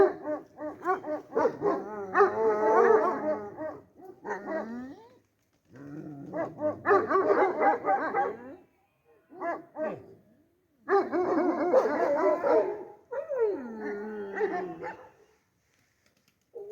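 Several dogs bark, yelp and growl in excited overlapping bursts, loud and close, with short pauses between the outbursts.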